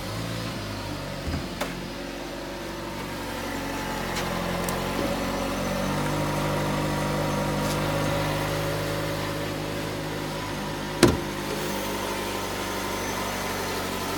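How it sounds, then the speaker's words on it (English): A 2015 Jeep Cherokee Limited 4X4 with a 2.4 liter MultiAir 4-cylinder engine idling, a steady low hum held for the whole stretch, with a brief sharp click near the end. "We'll go ahead and fire up the engine and give you a look out under the hood."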